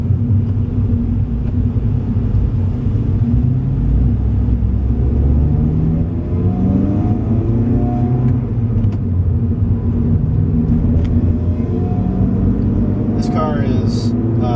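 Inside an Acura RSX fitted with a Greddy SP2 exhaust, a steady, loud low engine drone and road rumble fill the cabin throughout, with a few faint clicks near the end.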